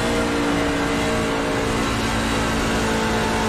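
NASCAR Class C truck engine in the iRacing sim, a loud continuous drone held at steady revs without a break, with no talking.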